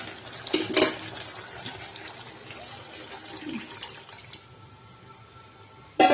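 Water poured into a pan of spiced curry with pointed gourd and prawns, cooked down with salt, turmeric and chilli powder: a moderate, steady splashing pour, brief and close, with no talking.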